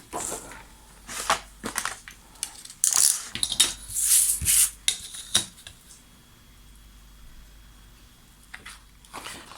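Scissors cut paper for a Christmas scrapbook pop-up page, giving a series of crisp snips and rustles at close range with short quiet gaps between them.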